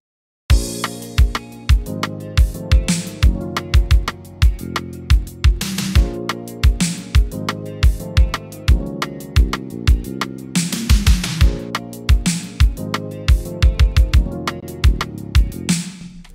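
A beat made with a customizable electric piano from a Kontakt sample library plays, with punchy drum hits keeping a steady rhythm under sustained, layered keys throughout, with no voices.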